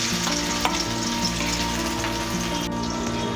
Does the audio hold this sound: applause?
no